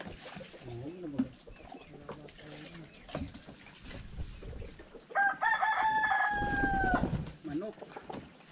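A rooster crows loudly nearby, one long drawn-out call amid people chatting and clucking chickens in the background.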